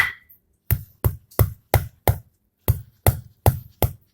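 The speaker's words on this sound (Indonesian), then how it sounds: "kemudian kita akan geprek jengkol yang kita goreng" Fried jengkol beans are smashed flat for sambal lado, giving ten sharp, close thuds in an uneven rhythm with brief silent gaps between the strikes.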